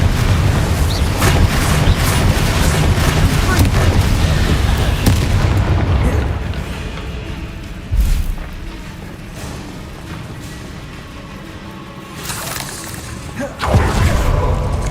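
Confringo fire-blast spells going off in the video game Hogwarts Legacy, a loud rumbling barrage of booming explosions that thins out midway, with more sharp blasts near the end.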